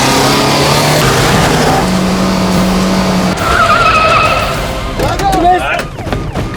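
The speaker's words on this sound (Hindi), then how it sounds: "ठोक दे गाड़ी, लड़की पीछे की सीट पे, कुछ नहीं होगा उसको। फास्ट।" A car in a chase scene from a Mumbai crime drama rams ahead and skids, with loud engine roar, tire squeal and screeching near the end.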